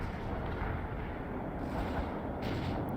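Explosion rumble in the war strategy game World in Conflict: a dense, continuous low roar of blast and concussion noise, loud and sustained throughout without any voices.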